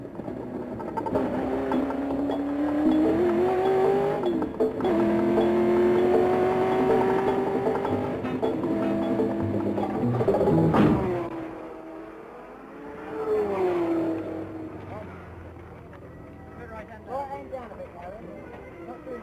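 A race car at the 1968 Le Mans 24 Hours accelerates with a rising engine whine that climbs in pitch through the gears and then fades, heard under continuous narration.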